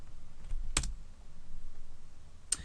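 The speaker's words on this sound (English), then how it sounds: "Okay, let's type in" Two isolated, faint clicks of typing on a computer keyboard, spaced about two seconds apart over quiet room noise.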